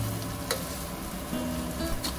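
Sweet potato halwa stirred in a pan over low heat, a close, steady sizzle with soft scraping strokes at irregular intervals, and no talking.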